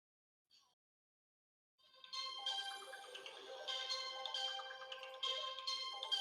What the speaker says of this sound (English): getting a phone call